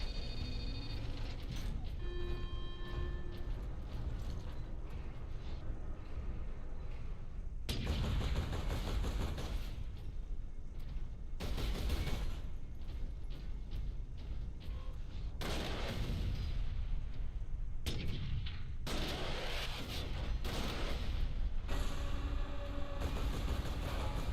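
Heavy weapon fire in Warhammer 40,000: Space Marine, a long-range melter gun discharging in loud broadband blasts around 8, 11, 16 and 19 seconds over a constant rumbling game soundscape with music-like tones early on.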